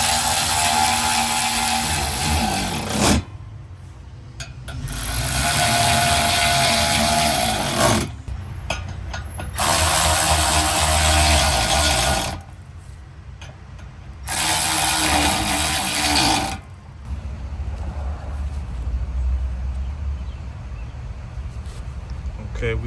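Power driver running in bursts as screws are started and tightened on the rear bumper of a 2021-2026 Chevrolet Tahoe, four loud whirring runs separated by short pauses, with talk in between.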